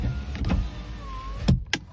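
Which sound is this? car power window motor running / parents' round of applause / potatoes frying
car power window motor running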